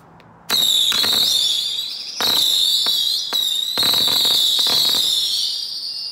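A 50-shot fireworks cake fires a rapid series of shrill whistling shots with crackling pops, loud and close, in repeated waves with short gaps between volleys.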